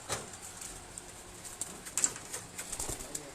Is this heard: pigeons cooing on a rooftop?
yes